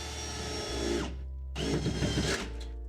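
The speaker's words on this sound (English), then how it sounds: "start off with a couple of just pilot holes for the blade of your jigsaw" Power drill boring pilot holes for a jigsaw blade into a vehicle body, two close, loud bursts of high whirring motor noise separated by a short pause.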